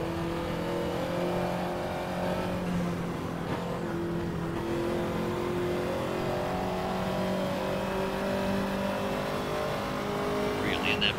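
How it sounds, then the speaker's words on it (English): A Ferrari 288 GTO's turbocharged V8 in the racing game Assetto Corsa holds a sustained, mechanical-sounding engine note while driving, moderately quiet and steady, with someone talking over it. "Very mechanical sounding engine."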